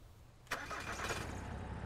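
A car engine in the survival game Mist Survival starts up after a quiet moment, then settles into a faint, steady running hum for a second or so.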